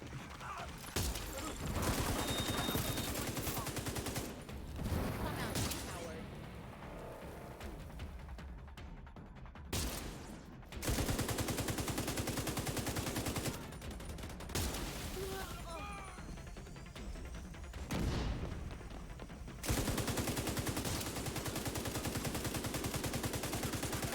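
Automated turret in The Division 2 firing sustained bursts of gunfire, loud and close with brief pauses between volleys, alongside someone talking.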